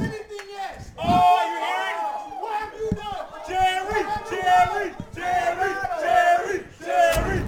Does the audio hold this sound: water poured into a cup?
no